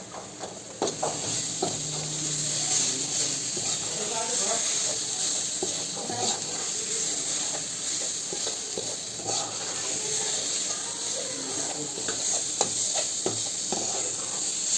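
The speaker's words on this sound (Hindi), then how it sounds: "दोस्तों मसाला फ्राई करते समय गैस को मीडियम ही रखना है। इस तरह से चलाते हुए फ्राई करना है मसाला को।" Masala frying in a pan over medium gas as it is stirred, a continuous close sizzle and hiss broken by soft scraping strokes of the spoon, with a voice speaking over it.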